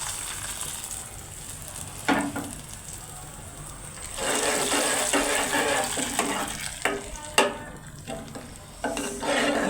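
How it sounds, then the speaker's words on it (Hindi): Fried onion tipped into a pot of sweet dal and stirred, giving a close, crackling sizzle with scraping stir strokes and uneven bursts, no speech heard. "बाकी जो हमारा प्याज बचा है ये हम डाल देते हैं दाल में।"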